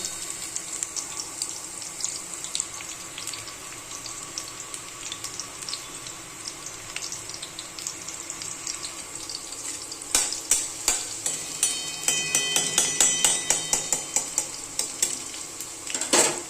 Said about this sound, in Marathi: आता लसूणची फोडणी आहे. तेलामध्ये लसूण टाकलेलं आहे.